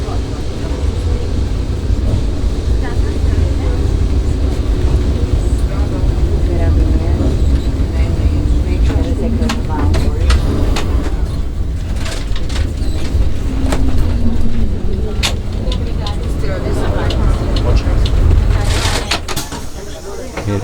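A crowded Lisbon number 28 tram rolls through the old town, with a steady low rumble of wheels and motor, clacks and squeals from the rails, and passengers' voices mixed into the background from inside the car.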